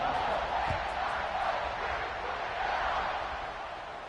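Stadium crowd noise from a college football video game, a broad steady roar of many voices that fades slightly toward the end, with no clear speech.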